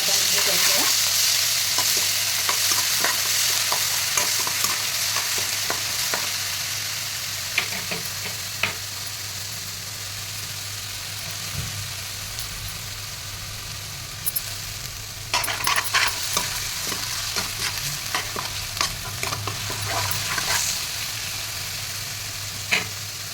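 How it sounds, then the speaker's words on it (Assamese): Chili, ginger and garlic sizzle loudly in hot oil, a steady frying hiss broken by repeated scraping clicks and knocks as a utensil stirs the pan, with sharper bursts midway. "জলকীয়া আদা নহৰু গৰম কৰা"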